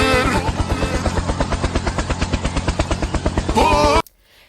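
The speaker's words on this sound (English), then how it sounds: "Helicopter, helicopter!" Rapid, steady rotor chopping from a helicopter thuds loudly and close for about four seconds, then cuts off abruptly into near silence.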